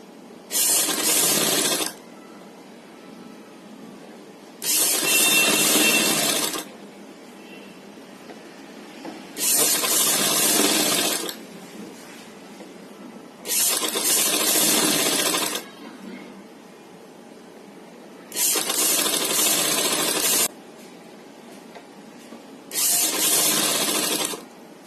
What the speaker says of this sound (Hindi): यहाँ से एक पैर की सिलाई लगाएंगे।